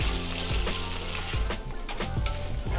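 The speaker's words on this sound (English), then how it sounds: "Now we stir fry them with a very low temperature." Cinnamon stick and spices stir fried in oil over low heat, a continuous close sizzle with recurring soft scrapes and thumps of the utensil.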